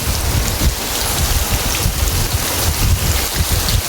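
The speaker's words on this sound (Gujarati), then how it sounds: "જો અહીંયા કેટલો બધો વરસાદ આવજો ઉપરથી જો નેવા આવે છે અને અહીંયા પાણી પડે છે" A downpour streams off the roof eaves at a farm and splashes onto the ground below, a constant, close, broadband rush of water with some wind buffeting and no speech.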